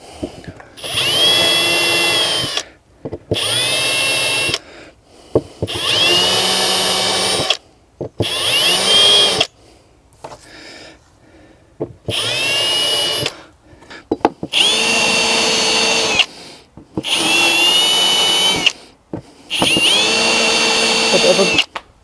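A metal countersink bit in a power drill bores into a fiberglass kitchen panel in a caravan, loud whining bursts of a few seconds each, repeated about eight times with short pauses between.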